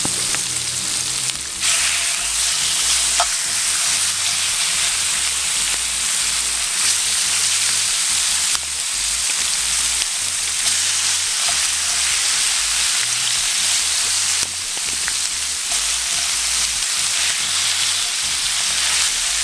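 Chunks of lobster sizzle steadily in hot oil at an outdoor cooking spot in Jamaica, a dense, even crackle with occasional small pops and faint stirring, with no talk.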